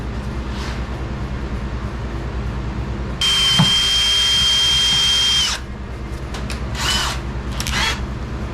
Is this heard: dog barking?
no